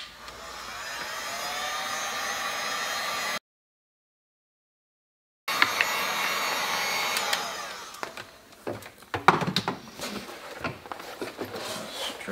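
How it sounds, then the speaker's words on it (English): A heat gun blows steadily for a few seconds on a vinyl seat cover for a fiberglass seat pan on a custom Honda CB500F, cuts out, then resumes, giving way to scattered handling clatter and rustling. "I've got my heat gun."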